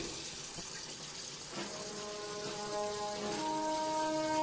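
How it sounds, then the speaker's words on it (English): Tap water splashes steadily into a sink during handwashing, a close hiss of running water that grows slightly fuller partway through, with faint tonal hums appearing in the later seconds. "Now let's wash my hands and turn on water tap."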